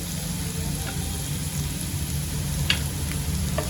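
Asafoetida and curry leaves sizzle steadily in hot oil for a sevai upma tempering, a dense, even frying hiss with a few sharper pops, close and continuous with no talking.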